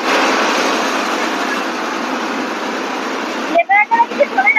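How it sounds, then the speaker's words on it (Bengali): A generator aboard a river ferry runs with a loud, steady roar close by for most of the stretch, then drops away abruptly as voices take over at the end. "জেনারেটরের প্রচন্ড আওয়াজ"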